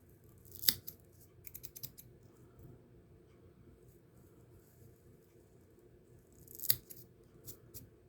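Scissors trimming spun deer belly hair in a quiet room: two crisp snips several seconds apart, with a few softer clips and rustles between them.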